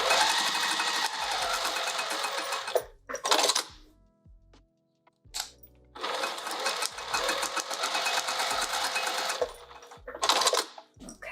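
Sewing machine stitching a wide pouch for an Anna Maria Box, two long rapid bursts of close, loud mechanical whirring, separated and bracketed by short stops and quick runs.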